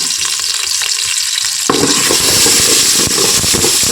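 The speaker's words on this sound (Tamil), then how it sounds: "இது நல்லா பொரியுதுங்க" Asafoetida powder and spices fry in hot oil for a Thiruvathirai vegetable kuzhambu, a loud close sizzle that surges into a denser, crackling roar partway through and stays intense, with no speech.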